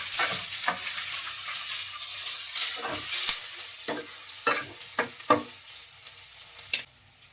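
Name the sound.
garlic cloves sizzling in hot ghee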